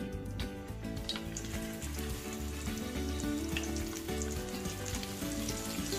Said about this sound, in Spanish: ya que hayas cubierto esta pieza, entonces la vamos a poner a freír